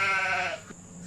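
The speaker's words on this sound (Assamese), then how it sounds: "বগা ছাগলীজনী মোৰ আৰু ক'লা ছাগলীজনী ক'লাজনীও মোৰ" A single bleat from a white or black goat, close and loud, lasting about half a second before fading.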